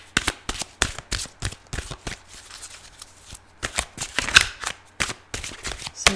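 Tarot cards are shuffled in quick bursts of riffling flutters, repeated rapidly with short pauses between rounds, close and crisp.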